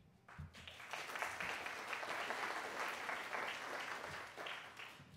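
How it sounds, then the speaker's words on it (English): Audience at a 40th anniversary event in Cleveland clapping, a sustained round of applause from a crowd in a hall that swells and then tapers off. "I'll pass along your applause to Brad."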